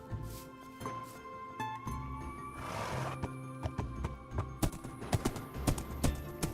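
A horse in Minecraft clip-clopping, a series of hoof clops with a whinny and other animal sounds from the game, moderately loud and close, with no talking.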